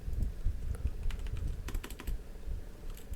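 Keys clatter on a computer keyboard in short irregular bursts, close and fairly quiet over a low background rumble.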